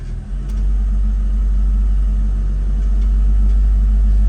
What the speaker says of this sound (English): Always put it in drive and see how it idles.